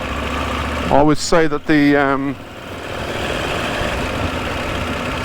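KTM 890 Adventure R motorcycle engine in off-road riding mode on an old concrete road, a steady low running drone heard under a rider's brief spoken comment, then continuing alone.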